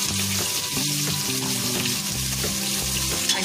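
Onions fry in hot oil with whole spices like fennel and cumin for a paneer biryani, making a loud, unbroken crackling sizzle over soft, steady tonal background music.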